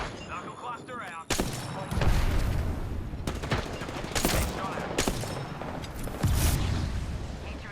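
Gunfire in the video game Apex Legends: repeated sharp shots and bursts, loud and close, with booming impacts between them and game voice lines mixed in.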